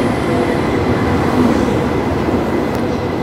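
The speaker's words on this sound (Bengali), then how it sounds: "বুলেট ট্রেন আমাদের ট্রেন আসছে" A high-speed bullet train rolls into Guangzhou South railway station with a loud, steady, close roar of wheels and rushing air throughout, with no talk.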